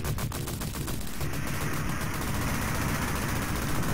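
Enemy grenades and gunfire in the arcade game Cabal, a dense, continuous barrage of rapid shots and blasts that fills the whole stretch at a moderate level.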